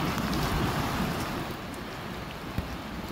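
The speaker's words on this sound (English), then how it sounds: "where all that running water is, right there, that faster water, that's technically the creek" Fast, swollen creek water after floods rushes in a steady broadband roar, with wind buffeting the microphone and no voices.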